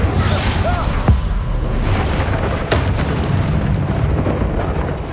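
An Incendio fire spell is cast in the video game Hogwarts Legacy, a loud, dense whooshing roar with booming bursts layered over it.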